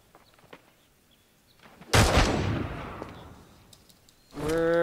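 In a video game fight, a single loud blast erupts and decays over about a second after faint scattered clicks, followed by a sharp tonal burst near the end.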